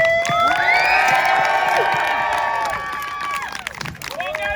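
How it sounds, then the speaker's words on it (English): A crowd at a Renaissance fair cheers and whoops loudly, many voices rising together in a sustained roar that tapers off toward the end. "So Kyle wants to get a loud cheer."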